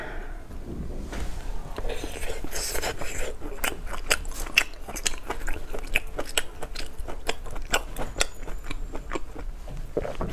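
Fried chicken legs and rolled sausages are eaten up close, with crisp bites and wet chewing crunches repeating in a steady rhythm, quiet and alone.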